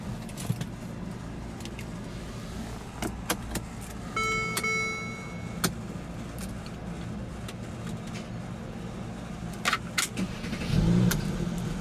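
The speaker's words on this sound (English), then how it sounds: "what you're hearing there is a 3-liter bi-turbo V6 engine" A 2017 Mercedes-Benz SLC43 AMG's 3.0-liter twin-turbo V6 idles with a low steady rumble inside the cabin, a few faint clicks and a brief tonal whine, then the engine rises slightly near the end.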